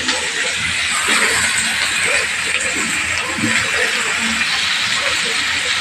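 Onions, garlic and tomatoes fry together in a pan for an eggplant dish, giving a steady, even sizzle and hiss with faint low clatter underneath.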